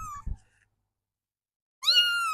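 A cat meows twice, up close: a short mew at the start, then after a quiet gap a longer, louder, rising meow near the end, with no talking.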